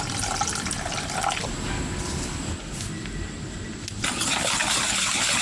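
Del Monte pineapple juice pours in a steady, loud liquid stream, close by, with a brief dip midway before the flow picks up again; no speech.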